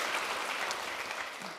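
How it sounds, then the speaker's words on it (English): Audience at a spring luncheon applauds, a soft, steady patter of clapping from a room of people, moderately distant and tapering off slightly at the end. "give me a full round of applause to these exceptional individuals"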